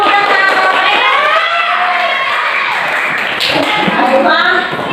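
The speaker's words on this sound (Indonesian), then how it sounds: "kita tepuk tangan" Schoolchildren in a classroom clapping their hands together, with rhythmic tapping under loud children's voices shouting and chanting throughout.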